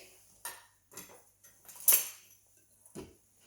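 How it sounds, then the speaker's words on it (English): A knife chopping nuts on a cutting board, five or six separate sharp taps spaced irregularly, close and fairly quiet, with no voice. "Got a cutting board with a knife here. And I'm going to start chopping some nuts."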